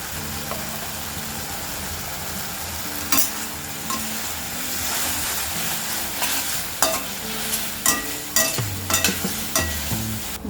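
Garlic frying with tomatoes in a pan over a medium flame for South Indian tomato chutney gives a steady sizzle, with sharp stirring clatters building toward the end and a low background hum underneath.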